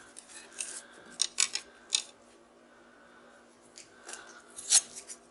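Transformer lamination steel being cut in a shop, a series of short, sharp metallic snips and scrapes at close range, irregularly spaced with quiet gaps between, no talking.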